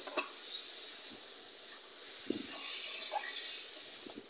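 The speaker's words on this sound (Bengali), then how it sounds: "এবার নাড়তে থাকবো।" Loitta (Bombay duck) fish being stirred in a cooking pot, with a soft hissing sizzle that swells and fades and a few light scrapes and taps of a utensil, close and quiet.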